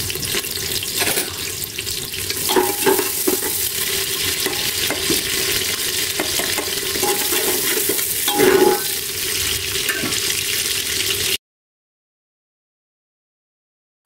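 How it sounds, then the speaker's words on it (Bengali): Chopped onions and chilies fry in oil, giving a strong steady sizzle broken by scraping stirs and a few sharper pops before cutting off to silence, no speech. "পেঁয়াজ মরিচ ভেজে নেওয়া হয়ে গেলে"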